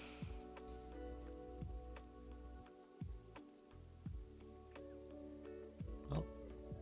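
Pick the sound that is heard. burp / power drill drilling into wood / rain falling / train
rain falling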